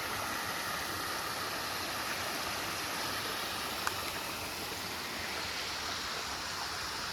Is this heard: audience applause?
no